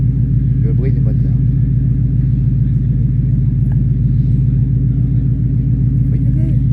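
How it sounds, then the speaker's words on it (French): A Ford Mustang convertible engine idles steadily with a low, even rumble at close range, and people talk faintly over it. "Le bruit du moteur."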